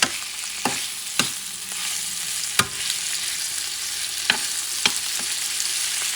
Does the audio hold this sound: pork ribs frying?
yes